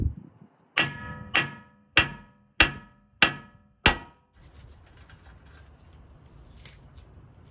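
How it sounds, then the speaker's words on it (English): Six sharp hammer blows ring out on a tie rod to knock it free during a 7.5-inch coilover lift install, evenly spaced and close, each with a short metallic decay, followed by quiet handling noise. "You're probably gonna have to hit this a couple times with your hammer to pop it free."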